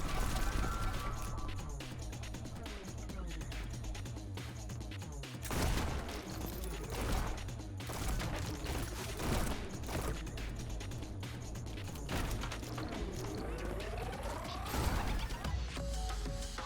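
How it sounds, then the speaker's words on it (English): Rapid gunfire in the Neon White video game, bursts of sharp shots layered over constant driving game music and mechanical effects, loud and dense throughout. "shooting once here kills that guy"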